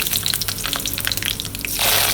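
Mustard seeds and dried red chillies frying in a tablespoon of oil for an Onam sadhya dish, giving a steady close crackling sizzle with scattered pops that swells into a louder, denser hiss near the end.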